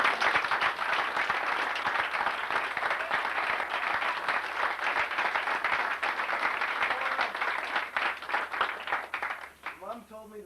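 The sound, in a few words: applause for the coaches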